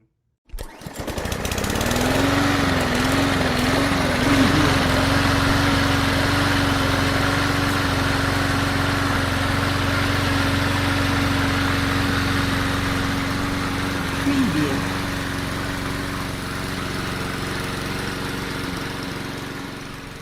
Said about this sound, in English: Soon he heard the sound of someone mowing their lawn, And this lawnmower did not have a quiet engine.